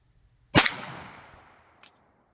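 A single sharp gunshot from a 10 mm handgun firing Blazer Target ammunition, loud and close, with a long decaying echo and a faint click near the end.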